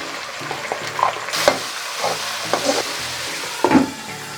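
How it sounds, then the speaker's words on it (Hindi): Boneless chicken fries in oil with chopped garlic, giving a close, steady sizzle with occasional stirring scrapes and clinks of the utensil in the pan. "जैसे ये लाइट ब्राउन हो जाएगा इसमें हम अपना बोनलेस चिकन डाल देंगे।"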